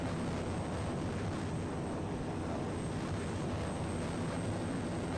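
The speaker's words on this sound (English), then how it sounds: "So I'm full afterburner now, 65-degree climb." A Eurofighter Typhoon jet at full afterburner during a steep climb in a flight simulator, a loud, steady, broadband roar that holds unbroken throughout.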